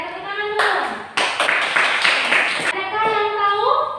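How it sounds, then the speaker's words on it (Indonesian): A classroom of students claps together during a teaching practice lesson, a brief burst of clapping that starts after a spoken instruction, with the teacher's and children's voices heard before and after. "Oke, tepuk tangan dulu."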